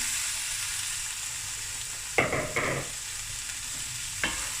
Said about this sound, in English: so I'm going to let this just fry together